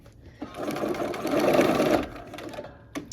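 A sewing machine runs steadily while stitching a peppermint quilt block for a Christmas block-of-the-month quilt, a continuous mechanical whir that builds in the middle and stops, followed by a brief click near the end.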